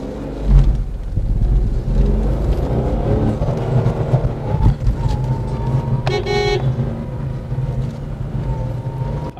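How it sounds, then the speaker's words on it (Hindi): A Nissan Magnite 1.0 naturally aspirated engine drones steadily inside the car while driving, a constant low rumble with a few bumps and a brief chime-like tone partway through, no talking. "अभी स्टार्ट करते हैं गाड़ी को"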